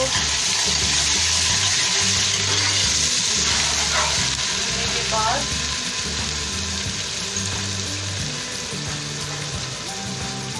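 Garlic and ginger hit a pan of browned onions for palak gosht, producing a loud, steady sizzle and hiss with a brief spoken phrase over it.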